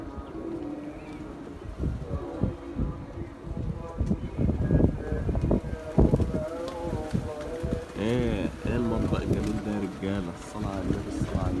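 Pigeons coo in throaty, warbling bursts close by, with wings and movement around them and someone talking intermittently over the birds.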